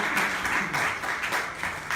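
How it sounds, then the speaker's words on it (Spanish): A church congregation applauding during a sermon, a continuous rolling clatter of clapping at moderate distance with pulsing surges, no talk over it. "denle palmas al Señor"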